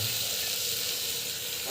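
Steady sizzling hiss of food sautéing in a hot pan, continuous and close, with no talking.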